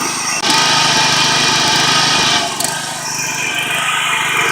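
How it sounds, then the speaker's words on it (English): A John Deere 14SE walk-behind lawn mower runs loudly and steadily as it cuts grass, a dense engine and blade roar that dips slightly partway through, close by and with no voices. "So now, do a little mowing for you."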